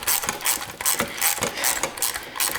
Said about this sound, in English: We're gonna use our deep socket to get these off.